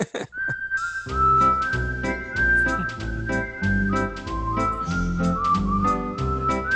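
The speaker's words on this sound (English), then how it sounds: "That iconic whistling theme synthesizer, song." A bright whistled TV theme melody carries a jaunty tune over a bouncing rhythmic backing, loud and up close.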